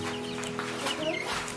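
Chickens brooding in a box, soft continuous clucking and low murmuring close by, with a hum running underneath and a voice talking.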